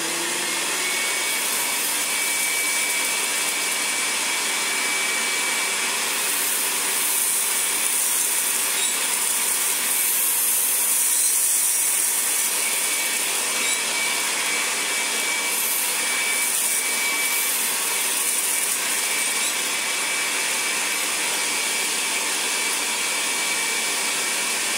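A restored Hoover Senior 652a vacuum cleaner with wands and a swivel hard floor tool runs continuously, a loud steady high whine and rush of air with faint scraping as the tool moves over the floor.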